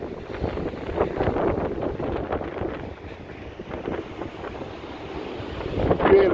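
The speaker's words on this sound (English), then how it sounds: "Really windy." Heavy wind roars and buffets constantly against a backdrop of crashing sea at Blackpool, swelling in a loud gust at the close.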